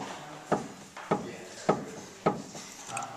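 Worn left front inner tie rod on a 1961 MGA knocking as it is worked, a series of four or five evenly spaced dull clunks about half a second apart, close and clear.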